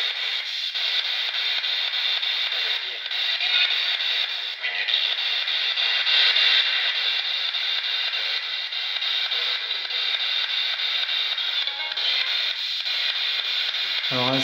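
A spirit box ghost-hunting device sweeps through radio stations in a house, giving a constant hiss of static with brief choppy bursts and fragments, steady and fairly loud throughout.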